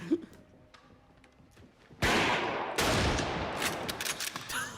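Gunfire in a scene of the TV show Boardwalk Empire: a sudden loud volley of shots with sharp repeated cracks and echoing bursts, very close and dense, following a quieter stretch.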